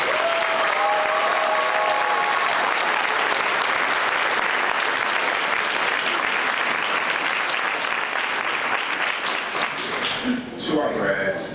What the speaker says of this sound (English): So can we give our families a round of applause as well?